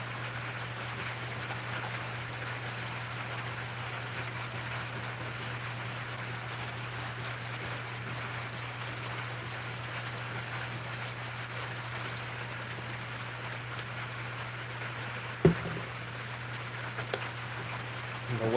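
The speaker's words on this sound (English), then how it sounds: "The Windex kind of helps keep the sandpaper from clogging up so bad." Sandpaper wetted with Windex rubs back and forth across a surface in fast, even strokes, a steady close scratching over a constant low hum, ending with a couple of knocks.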